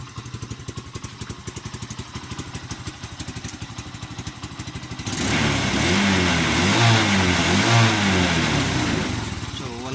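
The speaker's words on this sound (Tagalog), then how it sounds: "Pero ibirit natin yan." A Bajaj CT 125 motorcycle engine, smoking and misfiring, idles with a rapid putter, then is revved hard into a louder, wavering roar that rises and falls for several seconds.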